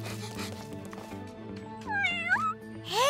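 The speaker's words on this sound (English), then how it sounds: "Hey, that looks like one of Mayor Humdinger's kitties." A cartoon kitty belonging to a mayor lets out a few short, bright meows close up, the last rising cry near the end, over a soft background music bed.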